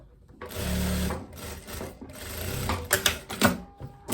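A sewing machine stitches the side seams of a loose viscose dress, running in a few steady whirring bursts up close, with some handling clatter between runs.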